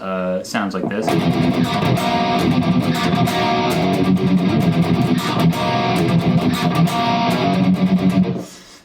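Dense, distorted electric guitar chugs in a steady driving rhythm under a song chorus, alternate-picked, loud and sustained, after a brief spoken line at the start.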